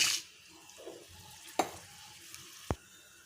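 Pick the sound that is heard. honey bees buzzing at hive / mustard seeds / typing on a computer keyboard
mustard seeds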